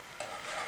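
Starch and water being stirred into a pot of simmering meat broth to make a sauce for meat kabsa, a short, steady stirring and faint sizzling sound, close and continuous, with no voices.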